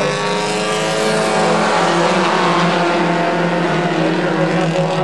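Race cars, including a small Honda Civic, running side by side on the Capital City Speedway oval in Ottawa, their engines making a sustained loud droning roar with a steady pitch, heard from trackside.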